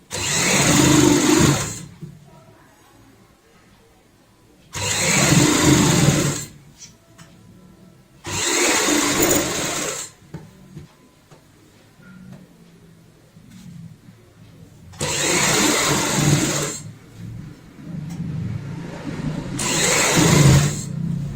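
Sewing machine stitching a doubled fabric strip onto an undershirt in several loud bursts of a few seconds each, separated by quieter pauses with faint handling sounds.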